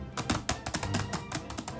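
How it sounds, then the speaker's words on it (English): Rapid keyboard typing clatters along in a quick, steady stream of close, crisp key taps, heard alone without talk. "I think that's enough typing noises."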